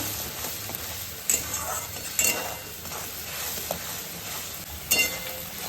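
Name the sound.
spice paste with Kashmiri chilli being stirred in a pan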